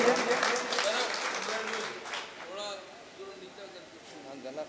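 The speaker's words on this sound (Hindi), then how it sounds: "एक बार ज़ोरदार तालियां बजा दी हमारे साहब के लिए" Audience applause at an Urdu poetry gathering (mushaira), a fairly dense wash of clapping that is strongest at the start and thins out, with voices calling out over it.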